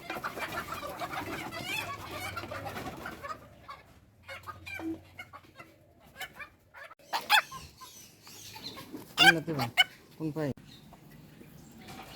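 Chickens cluck and squawk nearby on a poultry farm during vaccination, in irregular bursts with a few louder sharp calls, while a person talks over and between them.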